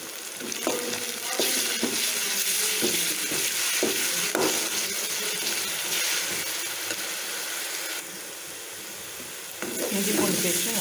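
Ginger garlic paste frying with softened onions in a pan while cooking a chickpea curry; a steady, loud sizzle throughout with scraping stirs of a spoon, close up.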